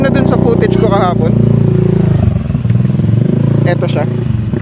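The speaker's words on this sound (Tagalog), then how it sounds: "Pwede mag-start ng motor?" A motorcycle engine runs in a steady, loud, low idle throughout, with voices talking over it at times.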